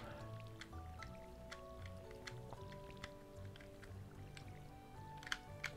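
Crops being watered with a watering can in the Stardew Valley video game produce soft, quiet drips and squishy liquid pours, scattered irregularly over light background music tones, with no talking.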